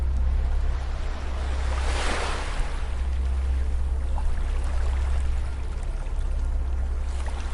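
Gentle waves wash onto a beach in a continuous, close surf roar with a low rumble underneath, one swell building and easing early on, with no voices.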